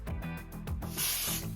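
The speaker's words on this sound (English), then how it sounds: "take your texturizing spray once again and literally just spray it through the front pieces" Texturizing hair spray misted from an aerosol can onto the front strands of a messy bun, one short hiss near the end over background music.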